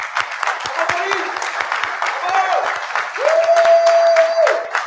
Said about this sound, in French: vous demander de l'applaudir pour le travail accompli